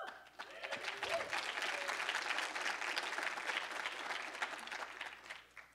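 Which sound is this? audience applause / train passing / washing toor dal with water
audience applause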